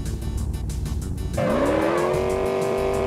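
A car in the game Enviro-Bear 2000 revs and then breaks into a loud, sustained tire squeal with a rising engine whine, close and dominant, with no voices.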